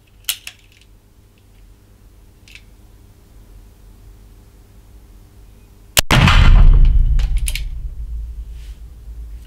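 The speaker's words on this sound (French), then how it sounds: "on va tirer à vide" A Gomm Cogne GC 54 defence gun dry-fired without ammunition: faint clicks of the mechanism early on, then one sharp, loud mechanical snap followed by a decaying low rumble, close to the microphone.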